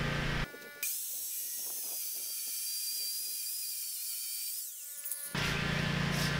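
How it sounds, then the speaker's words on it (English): A power tool cuts off the edge of a clamped wooden tabletop during a workbench build, a steady high whine running for about five seconds, loud and close, with louder noise bursts before and after it. "So we're gonna cut this off and we should be done with our tabletop."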